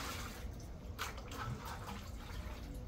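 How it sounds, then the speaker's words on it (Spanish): Water poured from a bucket into a concrete wash basin as it is scrubbed clean, a steady close splashing and trickling that runs for the full few seconds with no voices. "Y aquí yo le voy a ir echando agua también con el balde"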